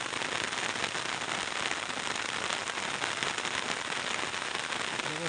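Heavy rain pours down steadily in an Indian village, a dense, continuous hiss of drops hammering surfaces at close range with no pauses and no other sound on top.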